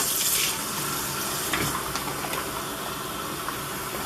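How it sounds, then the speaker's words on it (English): Water from a stream pours into a plastic hydration bladder reservoir, a steady close rushing and splashing flow with a few brief gurgles and no talking. "you can fill it up from the stream that way"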